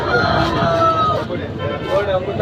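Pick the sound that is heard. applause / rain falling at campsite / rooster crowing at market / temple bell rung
rooster crowing at market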